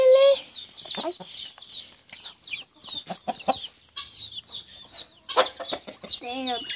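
A hen clucks near her chick on a rural family farm, with repeated close clucks and chirpy fowl calls mixed with people talking throughout.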